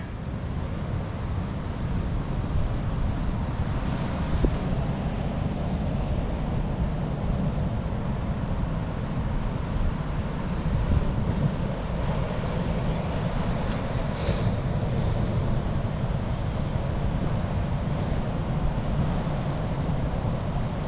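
Ocean waves break at a reef break in a steady wind, giving a continuous, heavy roar of surf and wind noise that fills the whole stretch without letup.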